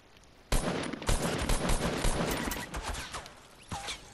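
Loud bursts of gunfire in Fortnite, a rapid string of sharp close shots followed by a few scattered single cracks.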